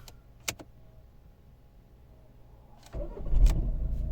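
A 2011 Volvo V50 1.6 D2 diesel engine cranks and catches after a quiet stretch with a few clicks, then settles into a close, low, steady idle.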